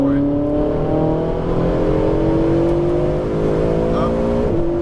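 A Ferrari 488 GTB on a race track revs and accelerates, its engine note climbing steadily and loud and close, then dropping briefly as if through a gear change before rising again.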